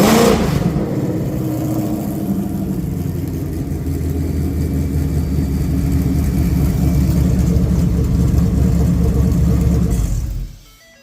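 Ford 5.0 Coyote V8 crate engine, destined for a 1966 F100, runs on a pallet with a loud, steady rumbling idle and occasional revs for about ten seconds before abruptly cutting off.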